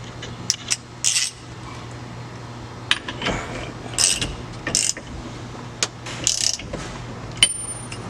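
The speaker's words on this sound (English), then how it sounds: "you want to make sure you put on back the shaft nut" A ratchet tightens the steering shaft nut while an aftermarket steering wheel is installed on a Ford. Close, bursty clicking ratchet strokes come in short spaced runs over a faint steady hum, with no talking.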